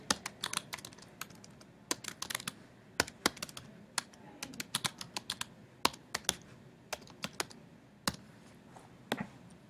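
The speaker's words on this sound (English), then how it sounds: "I can start typing" Typing on a computer keyboard at a desk: a steady run of light, quick key clicks with irregular rhythm and occasional harder taps, close and quiet, with no talking.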